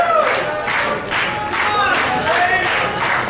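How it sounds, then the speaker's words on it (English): Wrestling arena crowd at an AWF Crossfire show cheering for Bill Graves, a steady roar of voices with rhythmic swells, as if chanting, filling the whole stretch. "The crowd getting behind Graves now."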